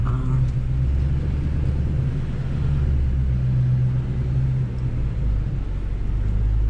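A 2007 Shelby GT's engine hums in a loud, steady low drone while driving, heard from inside the car with no talk over it.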